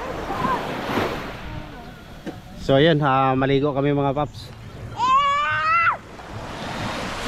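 Ocean surf rolls steadily at a beach resort in Zambales, with wind rumbling on the microphone, while people talk over the wash of the waves.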